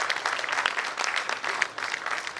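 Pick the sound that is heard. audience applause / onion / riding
audience applause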